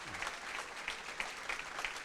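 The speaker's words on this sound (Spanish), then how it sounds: "Ahora dele un aplauso al Rey de Reyes." A church congregation claps in a faint, distant burst, with scattered sharper claps standing out from a soft, steady patter.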